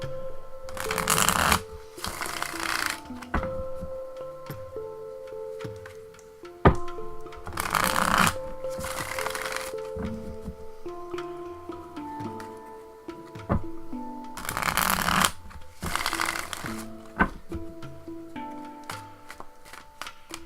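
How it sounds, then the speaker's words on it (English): Repeated riffling bursts of a tarot deck being shuffled, each a few seconds long, with quieter handling and light clicks of cards in between. "I love to shuffle this deck. It shuffles so well."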